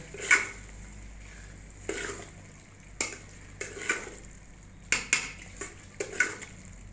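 Fresh coriander being mixed into baingan bharta with yogurt in a pot: a spoon scrapes and taps against the metal in a loose series of clinks over a faint, steady sizzle.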